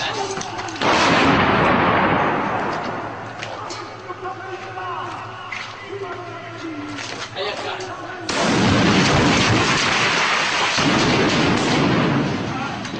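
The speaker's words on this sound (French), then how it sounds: "Attention, je vais tirer." Heavy gunfire and explosive blasts in a battle between American forces and fighters in Najaf, Iraq, loud and close, with sustained rumbling bursts and a second powerful blast partway through, while voices are heard underneath.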